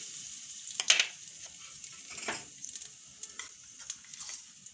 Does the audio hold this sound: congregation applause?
no